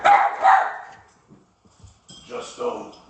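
A puppy barks in a few sharp yaps close by, followed after a short pause by another pair of barks, with a voice or faint sounds in between.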